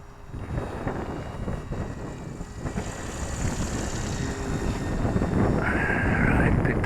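An RC autogyro flies outdoors in wind, its rotor and motor giving a rough, broadband whir that builds steadily louder as it climbs, heavily mixed with gusty wind buffeting the microphone.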